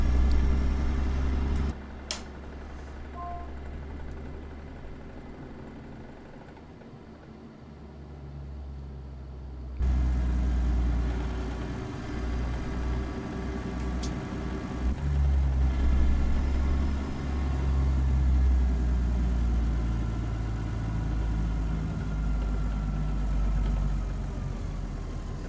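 A Caterpillar 3406B diesel in a 379 truck, pulling a reefer trailer in American Truck Simulator, drones steadily at low speed through an old rail yard with the windows cracked, its deep rumble loud and continuous, swelling slightly partway through.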